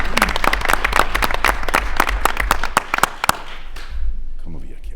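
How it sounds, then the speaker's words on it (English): Applause for high school seniors at a school board meeting, a burst of sharp, close claps that thins out and stops near the end, followed by a speaking voice. "Nice round of applause for our seniors."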